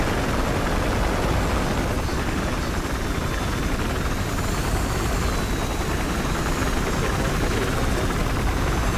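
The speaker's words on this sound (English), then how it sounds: "Helicopter's up." Helicopter in the video game Battlefield Hardline, a loud, steady rotor and engine roar that stays constant for the whole stretch with no voices.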